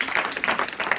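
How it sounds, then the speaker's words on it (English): Audience applause at a live business presentation, a steady burst of dense clapping from a crowd filling the moment, fairly loud and close with no talk over it. "Give a round of applause for Ty"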